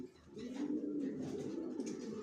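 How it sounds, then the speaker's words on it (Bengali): Johnson racer pigeons coo in a breeding loft, a soft, continuous, throaty rolling call close by with no talking. "আমার লফটে সব লংয়ের কবুতর পালি জনসনের।"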